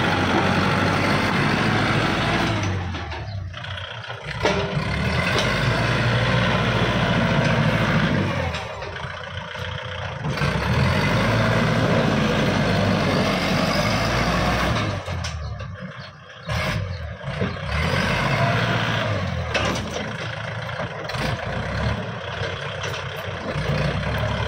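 A 2013 Kubota 47 hp farm tractor's diesel engine runs steadily and loudly up close for the whole stretch, with a few brief dips in level.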